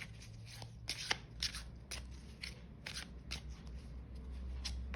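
Tarot cards being shuffled, a steady run of crisp papery riffles and soft flicks repeating close up with no talk over them.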